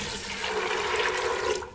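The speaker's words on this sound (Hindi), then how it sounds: "और इसके अंदर मैं पानी ऐड कर दूँगी।" Water pours steadily into a pot of soaked white chickpeas with a little soda added, a continuous close splashing rush that tapers off at the end.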